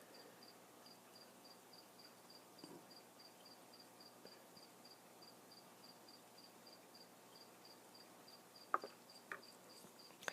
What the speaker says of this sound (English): You hear crickets. Real crickets.